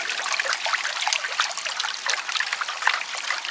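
Water sloshing and trickling steadily while lighter material is washed out of a gold pan at an old North Carolina gold mine, a continuous close splashing stream with no talk.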